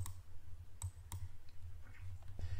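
Several sharp computer mouse clicks, spaced out and faint over a low steady hum, with no talking.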